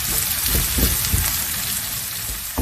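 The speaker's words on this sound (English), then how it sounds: "Saute onion until soft and slightly golden." Onions sauté in a pan for a Do Piazeh Aloo dish, sizzling and crackling steadily and close by, with faint stirring scrapes and no voices.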